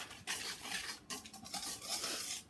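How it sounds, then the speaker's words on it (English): A small whisk stirring colour powder into a dry bath bomb mixture in a bowl, a close, quiet, continuous scratchy swishing with short pauses between strokes. "I just use a little whisk to whisk it in."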